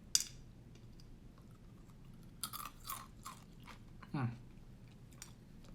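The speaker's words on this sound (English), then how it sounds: "That is crunchy." Close, crisp crunching and chewing in short bursts separated by quiet pauses, with a sharp click at the start and a soft thump later.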